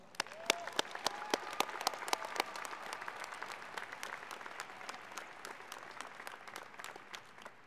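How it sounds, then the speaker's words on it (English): Audience applause at a graduation diploma and awards ceremony, a burst of clapping from a crowd in a hall that starts with sharp distinct claps and settles into a steady, moderately loud patter. "Please join me in a round of applause."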